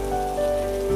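Stormy rain, used as a sound effect behind a told story, makes a close, continuous pattering hiss with a faint tonal hum, heard alone for about a second.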